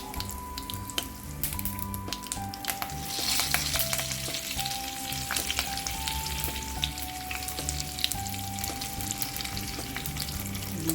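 Curry leaves, cumin and asafoetida frying in hot oil as a tempering for a traditional Samvedi tur dal amti with tamarind and jaggery, giving a steady close sizzle with a faint background hum and no talking.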